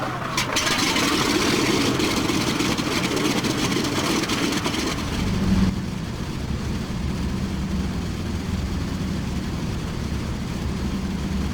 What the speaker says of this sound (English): I do like the sound of the cough and the spit as the engines come to life